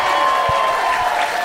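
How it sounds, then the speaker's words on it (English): Applause from a stand-up comedy club audience for two performers, a steady wash of clapping that fills the whole moment, with a couple of low thumps and crowd noise mixed in. "Clap it up one more time for Grace and Bob."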